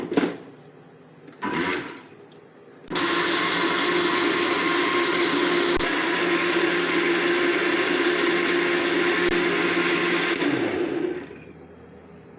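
A blender grinds sugarcane juice with black salt, starting with two short bursts and then running in a steady, loud whir for about eight seconds before it winds down.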